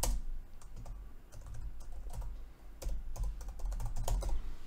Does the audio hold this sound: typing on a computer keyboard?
yes